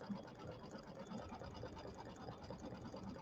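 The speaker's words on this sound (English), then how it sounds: "it takes a little bit to do the satin stitching here" Embroidery sewing machine satin stitching a table topper hums steadily with a rapid, even needle rhythm, close and continuous but fairly quiet.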